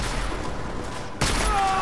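A single loud shotgun blast goes off in the video game Deus Ex: Mankind Divided, landing abruptly after a stretch of background game noise and followed by ringing tones.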